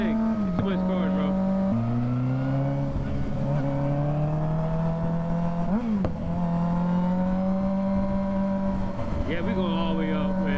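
Motorcycles lane split through traffic, their engines droning steadily with rising and falling revs, loud and close as one rides along, while people talk over the engine noise.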